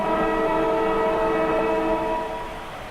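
Match siren sounding to start an Australian rules football game in the video game AFL Evolution: one sustained, horn-like tone that holds steady, then gradually fades near the end.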